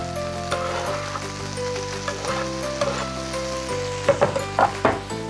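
Tomato and turmeric frying in hot oil for a Myanmar potato and chicken curry, a steady close sizzle with a few sharper crackles and spatters toward the end, under a low background tone.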